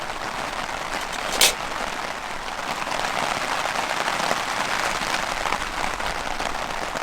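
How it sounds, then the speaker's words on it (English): Heavy rain pelts a tent and tarp at a campsite, a steady dense patter filling the whole stretch with one sharper splash or knock early on, no voices. "I don't know if you can hear the rain splashing down here. It's pretty violent."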